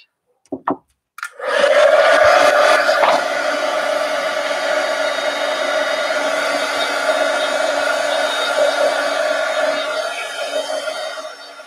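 A hair dryer blows steadily on a journal cover, switching on after a couple of brief clicks and then holding a loud, continuous whooshing whir for around ten seconds, with no talking over it.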